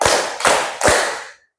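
A class of children claps together in a group clapping game, three loud, slightly ragged bursts of many hands in quick succession, the last ringing out and fading.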